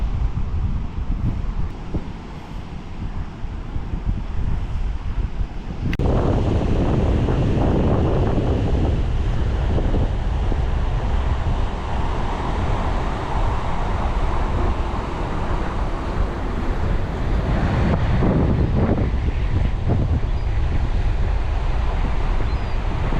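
Wind and surf roar steadily at Pensacola Beach on Florida's Gulf Coast, a softer gust-filled rush for the first few seconds, then louder breaking waves and buffeting wind noise on the microphone throughout, with no voices.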